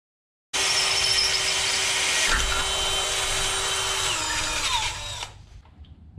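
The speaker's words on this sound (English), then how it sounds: "I'm going to do one at a time just so I can drill this hole" A power drill whines steadily at high speed for several seconds, boring a hole for a monster truck fender well support bracket, then cuts off abruptly, leaving quiet.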